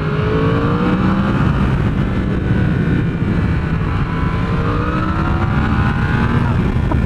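A new Yamaha R1 motorcycle engine runs on track at partial throttle, a loud continuous droning roar with wind rush, steady and close for the whole stretch, with no speech.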